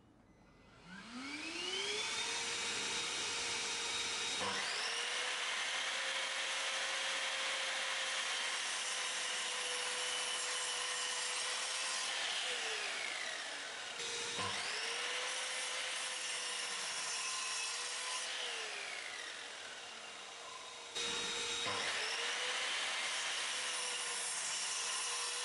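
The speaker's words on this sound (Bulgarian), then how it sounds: "Включвам прахосмукачката и режа 3 дъски." A power saw spins up and cuts through three wooden boards one after another, each long rasping cut with a whining motor, while a vacuum cleaner drones steadily underneath throughout, close and loud.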